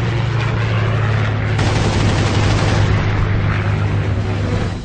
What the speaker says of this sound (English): he lashes out with the only weapons he has, his cannons.